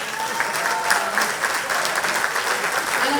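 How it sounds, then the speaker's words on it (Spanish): An audience applauds the governor again at a Banco Provincia event, a loud, dense, continuous wash of clapping that holds steady from start to finish. "si quieren le podemos volver a aplaudir al gobernador"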